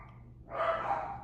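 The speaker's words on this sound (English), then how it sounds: "I don't know why my dogs are barking." Several household dogs barking from a distance in one brief burst, fairly faint behind low room hum.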